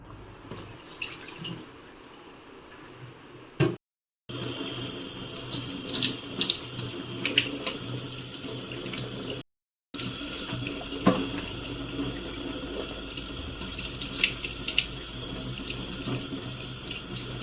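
Tap water runs steadily from an indoor faucet into a sink while water is changed for houseplants, a continuous close splashing flow with two brief silent gaps.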